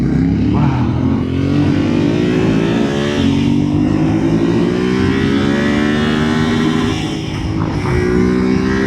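2025 or 2024 Yamaha Ténéré 700 motorcycle accelerating, its engine note climbing steadily through a long pull, loud and close with wind noise, no talk.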